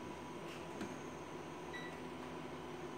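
Homemade coffee roaster drum turning on a motor with fan vanes inside, a steady, quiet whirring hum with a faint airy rush that runs evenly throughout, with no one speaking.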